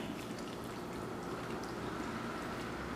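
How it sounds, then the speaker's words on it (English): Rain falling outside during a Florida storm, a faint, steady hiss of dense drops with no talking over it. "It's raining."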